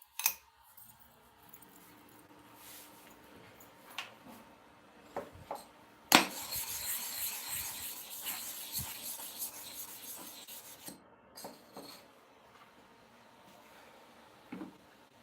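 A rusted, worn hair clipper blade rubbed on a smooth sharpening stone, producing quiet intermittent scraping strokes with a louder, sustained grinding passage in the middle.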